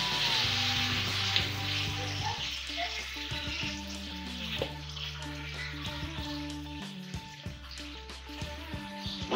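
Steady sizzling of grated carrots frying in a pan, with light stirring scrapes and a constant low hum underneath.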